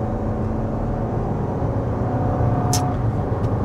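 Inside a 2024 Lexus NX 350 F-Sport cruising at about 55 mph, a steady broadband road and tire roar fills the cabin, with one brief sharp tick partway through.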